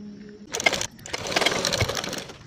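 A sewing machine joins the front and back panels of a blouse, running in two close bursts of rapid mechanical clatter with a brief gap between them.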